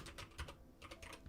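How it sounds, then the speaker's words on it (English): Fingers type on a computer keyboard in short, irregular bursts of soft clicking keystrokes, close by and alone, with brief pauses between runs of keys. "Sorry, what am I typing?"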